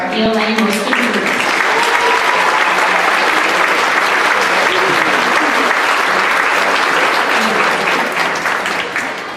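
Dense, continuous applause fills a school awards ceremony hall, loud and even throughout with crowd noise mixed in, easing only slightly at the very end.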